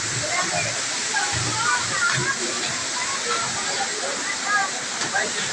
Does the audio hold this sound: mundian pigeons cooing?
no